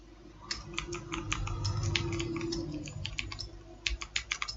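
Fast keyboard typing as array values are entered into a running C++ program, a quick patter of key clicks with a slight hum beneath, ending in a few separate, sharper keystrokes.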